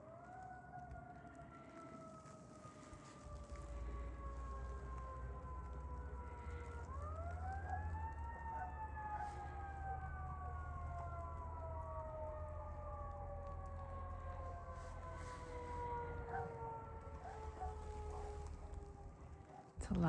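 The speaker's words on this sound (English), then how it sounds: "It's a lot of sirens." Many emergency sirens wail together outside before a storm, their long rising and falling tones overlapping steadily for the whole stretch over a low rumble of wind or traffic, fairly distant but continuous.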